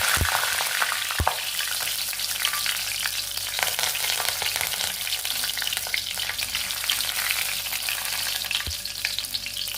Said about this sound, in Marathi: कढीपत्ता तळून झालेला आहे